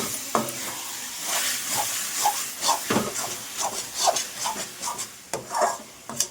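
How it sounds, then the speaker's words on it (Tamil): Curry leaves added to a pan of tomato thokku and stirred in oil, a soft sizzle under repeated scraping strokes of a spoon against the pan, close and steady, with no talking. "இந்த ஸ்டேஜில் கருவேப்பிலை போட்டுடுறேன் பாருங்கள்."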